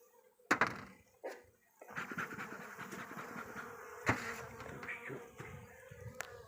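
Honeybee colony buzzing inside a hive sitting on a screened mesh bottom, a steady close drone of many bees with a few sharper knocks and clicks from handling the frames, no voices.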